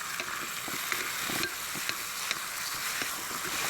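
A spoon stirs oyster sauce and soy sauce through pancit canton noodles in a hot pan, making soft scraping taps over a steady, faint sizzle.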